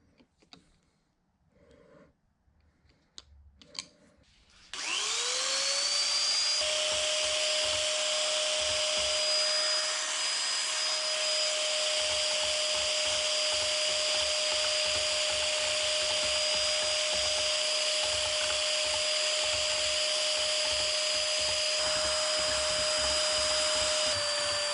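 A Biax power scraper works a 24-inch cast iron camelback straight edge, its loud, steady motor whine running without a break for about twenty seconds. A rapid reciprocating chatter sits underneath, with a few quieter knocks before the tool starts.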